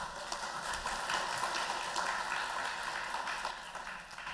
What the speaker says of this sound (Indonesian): sekali lagi tepuk tangan untuk Kak Inal